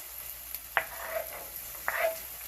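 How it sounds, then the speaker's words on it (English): Garlic is added to a hot pan over medium heat and sizzles. Soft, steady frying hiss runs throughout, with two brief utensil clinks as it is stirred. "So let me add my garlic now"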